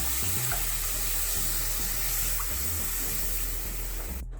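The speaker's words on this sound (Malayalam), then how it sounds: "ഇനി നമുക്ക് അതിനകത്തേക്ക് പുളി പിഴിഞ്ഞൊഴിക്കാം." Squeezed tamarind water pours steadily into a pot of Kerala inji theeyal (ginger curry), a soft continuous liquid trickle running alone, close by, under a low constant background hum.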